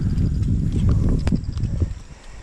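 Steady clip-clop of horse hooves at a walking pace, fairly close, over a low rumbling background.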